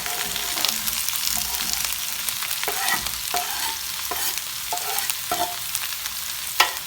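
Chopped onions fry in a hot, thin-walled wok, giving a close, steady sizzle broken by sharp scrapes and knocks as the mix gets stirred, with no talking.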